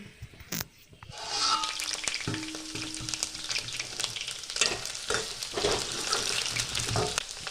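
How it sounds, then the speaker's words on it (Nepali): Potatoes fry in a pan with a steady, close sizzle and crackle. A sharp clack comes near the start, and faint stirring scrapes continue through the frying. "फुरिसकेपछि आलु हालेर एकछिन भुटे।"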